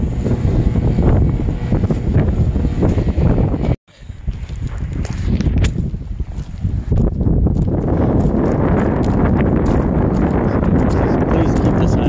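Strong wind roars across a sailboat motoring near an island, a steady heavy rush with one brief dropout before the gusting resumes.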